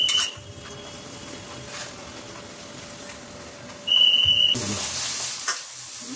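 Papad frying in hot oil, a soft continuous sizzle under light background noise, then a brief high tone and a louder burst of crackling hiss toward the end, close by and without talk.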